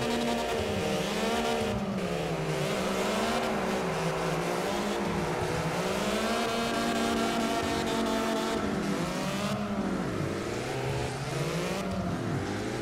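A car drifts in CarX Drift Racing Online, its engine revving up and down in long swooping waves as the tires squeal and skid continuously, loud and close with no voices.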